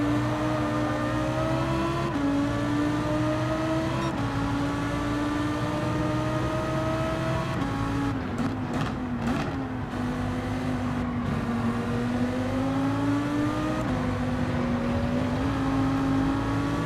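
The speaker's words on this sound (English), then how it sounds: "A slipstream from the Supra is a pretty super slipstream." Toyota Supra race car engine in Gran Turismo 7 during a racing event, a loud, sustained high-revving drone that rises and falls with gear changes, alone without talk.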